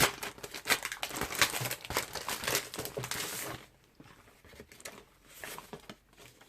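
Crinkling and rustling of plastic packaging as a package of craft stencils is unwrapped, busy crackles for a few seconds, then quieter sparse rustles.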